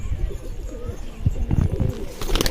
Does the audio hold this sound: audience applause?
no